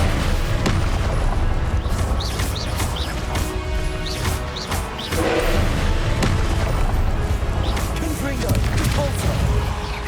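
A Confringo fire spell bursts in a Hogwarts Legacy battle, dense booming impacts and crashing blasts layered over game music and effects, with a voice speaking over the loud, busy mix.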